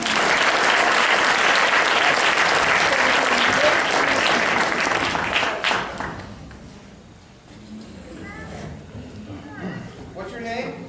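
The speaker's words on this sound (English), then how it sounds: "Give her a big hand." Audience applause at a magic show in a theater, loud and sustained for about six seconds, then fading to scattered claps and crowd murmur while people talk.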